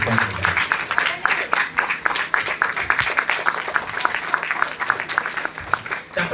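A crowd applauds loudly at a public event, rapid dense clapping filling the whole stretch with sharp individual claps standing out near the listener.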